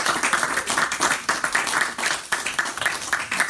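An audience at a graduation ceremony breaks into steady applause, many hands clapping in a dense, even patter that carries at a constant level throughout.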